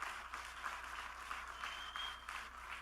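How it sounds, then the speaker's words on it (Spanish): Congregation at a church service applauding together, a steady wash of many hands clapping at moderate volume with no voices over it, carrying on through the whole stretch. "Dale el aplauso si se lo quieres dar."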